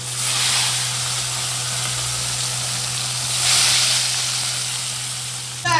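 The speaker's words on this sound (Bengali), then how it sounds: "দেখো বেশি ভাজবো না, হালকা করে ভেজে নেব।" Pieces of catla fish fry lightly in hot oil in a pan for a Bengali fish curry, giving a steady close sizzle that swells briefly midway, with no talking.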